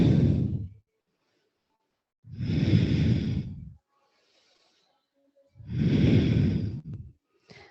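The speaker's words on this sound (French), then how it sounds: "Longue respiration" Slow, deep breaths during a kundalini yoga exercise, three long audible exhalations at a steady rhythm with quiet pauses between them, close to the microphone.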